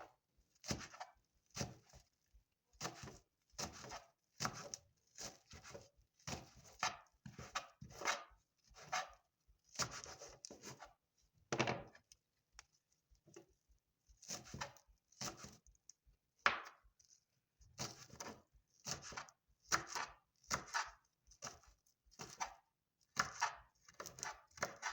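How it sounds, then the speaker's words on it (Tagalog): A knife slices through fresh organic spring onions in quick, crisp strokes, close up and rhythmic, with short pauses between runs of cuts and no talking. "we have to slice this spring onions"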